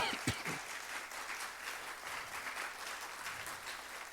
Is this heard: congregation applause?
yes